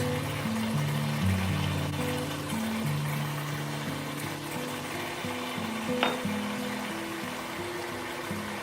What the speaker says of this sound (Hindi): अब आपने इन सारे स्पाइसेस को ऑयल के साथ 4 से 5 मिनट तक अच्छे से भून लेना है।